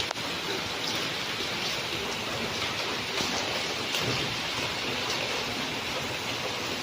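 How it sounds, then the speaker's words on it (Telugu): Steady rain pours down outdoors, a dense continuous hiss with no voices. "బయట వర్షం అయితే ఇలా పడుతుంది"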